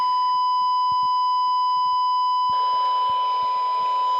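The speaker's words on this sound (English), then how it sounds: "I'm putting 1 kilohertz tone through my Midland 42." Steady 1 kilohertz tone played through a Midland 42 CB radio, a continuous pure beep with harmonics, joined partway through by a burst of loud hiss while faint clicks sound underneath.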